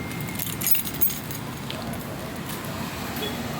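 Keys jangle while a car is locked, a steady metallic jingle blended into continuous broadband noise from the car park, with a couple of slightly louder clinks.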